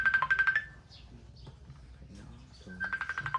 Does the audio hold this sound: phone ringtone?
yes